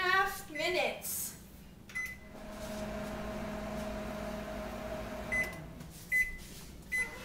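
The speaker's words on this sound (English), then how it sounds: "putting them in the microwave" A microwave oven runs with a steady mid-pitched hum for several seconds, framed by door clunks and short electronic beeps at the start and end, with a voice heard briefly near the beginning.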